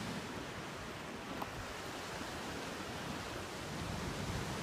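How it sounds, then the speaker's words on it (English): Ocean waves crash against rocks along the California coast in a continuous, wide wash of surf noise with a low rumble, steady and fairly loud, with no voices. "waves crash against the rocks."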